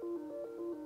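A brief snippet of the iPhone iOS 17 ringtone 'Departure', a few sustained synth tones rising and falling in a short repeating pattern, soft and close.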